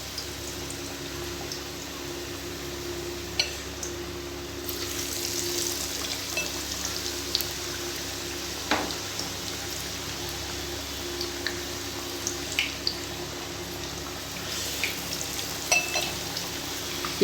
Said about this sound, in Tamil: அதில் ஒரு ஸ்லைஸாக இந்த வாழைக்காய் பீஸ் ஸ்லைஸை நம்ம அப்படியே டிப் பண்ணி லோ ஃப்ளேமில் வச்சுட்டே நீங்கள் போட்டுக்கோங்க.